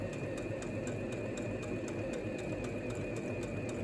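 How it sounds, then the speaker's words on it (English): A sewing machine stitching fabric runs at a steady even pace, its motor humming continuously with a rapid regular ticking of the needle mechanism, close and constant with no pauses. "from here, I'm able to begin sewing normally."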